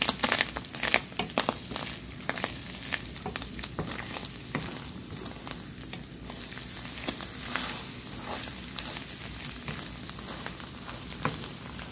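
Tuna and egg sautéing in a pan, a steady close sizzle and crackle with frequent sharp spatters and occasional stirring scrapes, no talking.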